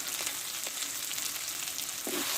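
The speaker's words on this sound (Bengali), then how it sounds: "এই মশলাটা ভালো করে কষে নেব" Spice paste of cumin powder, Kashmiri chilli and ground green chilli frying in a pan, a soft steady hiss with a faint stirring knock near the end, quiet and without voices.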